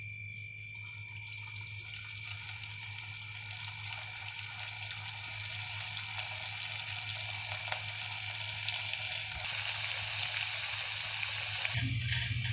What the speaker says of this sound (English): now we have heated the oil and now we are gonna deep fry them